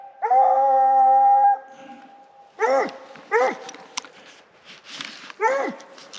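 Coon hunting dogs at night in Louisiana give a long, loud sustained howl, then several shorter bawling howls and yelps at irregular intervals, close by with no talk.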